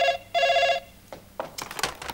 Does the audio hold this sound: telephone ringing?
yes